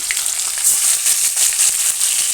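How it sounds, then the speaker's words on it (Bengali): Ripe tomatoes hit hot oil in a pan with a steady, close hiss and crackle, a sizzle that holds evenly throughout without any voices. "তেলের উপর টমেটোগুলোকে আমি দিয়ে দিলাম"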